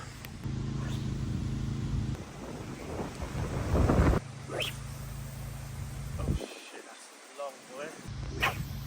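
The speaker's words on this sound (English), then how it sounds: "It is that change of weather now, the storm." A storm at a carp fishing lake, with gusty wind and rain roaring steadily and loud bursts of wind buffeting close by. A dog barks intermittently in the background.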